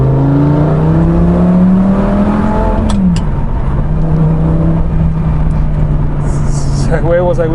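Lamborghini Gallardo engine note from inside the car on a country drive, a steady hum that rises and then drops abruptly in a quick rev change partway through, with a lower drone continuing afterwards and talk over it.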